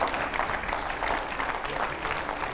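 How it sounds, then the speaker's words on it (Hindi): Studio audience at a TV9 Delhi election talk show applauding to welcome BJP leader Gaurav Vallabh, a dense, even wash of clapping that fills the whole moment at steady loudness. "जोरदार तालियों से स्वागत कीजिए"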